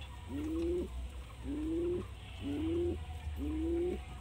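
Racing pigeons coo in four evenly spaced, drawn-out calls, close and clear over a low steady background hum.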